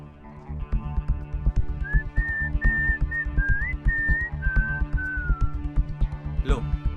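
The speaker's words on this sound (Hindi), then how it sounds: "अक्सर वो सीटी बजाता है" A man whistles a clear, wavering tune of several sustained notes over a steady background of music and ambient noise.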